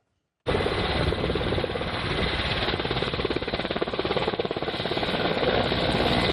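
Military helicopters flying in pairs at extremely low altitude give a steady rotor thumping and engine roar that start abruptly and continue loud and close, a constant throbbing pulse throughout.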